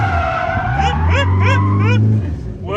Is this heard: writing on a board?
no